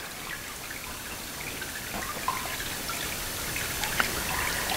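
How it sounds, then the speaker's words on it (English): Water drains from paper pulp through the screen of a papermaking mold lifted out of a vat, a steady soft trickle and patter with a few louder drips, close and continuous with no talk. "pull the mold straight up out of the water, and you can see a lot of water already coming out through the screen"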